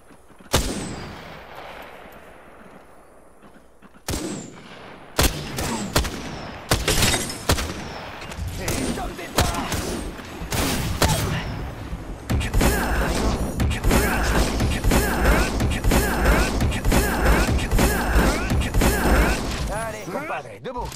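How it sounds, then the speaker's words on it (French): A cluster bomb detonates in Apex Legends, a loud rapid string of blasts and cracking explosions layered with gunfire and mechanical clatter, a voice talking briefly beneath the battle noise. "Déploie ma bombe à dispersion."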